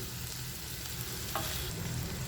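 Steady oil sizzle of four sliced onions frying with salt in a pan, with a brief stirring scrape partway through; continuous and fairly quiet, no voices.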